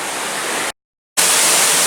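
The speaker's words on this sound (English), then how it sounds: "So here we can see the back side of the waterfall on the side of the building" Broadband rushing water of a waterfall pouring down the back of the themed floating rockwork at Pandora in Disney's Animal Kingdom, a steady loud hiss cut by a brief gap of silence, then resuming just as strong.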